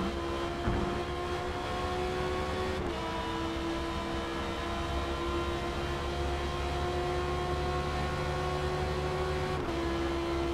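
An Audi R8 and a Porsche 911 race side by side at Spa at night in Forza Motorsport, engines droning in a steady sustained tone with a gear shift or two, continuous and fairly loud.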